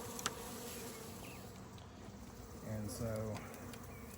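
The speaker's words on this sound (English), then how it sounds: "So I'm going to show you guys here a package of bees" A package of Carniolan honey bees hums with a steady, close swarm drone throughout, swelling slightly louder near the end while someone talks briefly over it.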